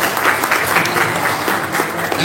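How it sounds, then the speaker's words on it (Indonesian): An audience claps steadily at a panel discussion event, a moderate wash of many hands applauding together without voices. "Hadi Suprapto, tepuk tangan."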